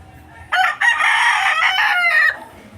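A native rooster crows loudly and close by, one long cock-a-doodle-doo lasting a couple of seconds, with quiet surroundings before and after.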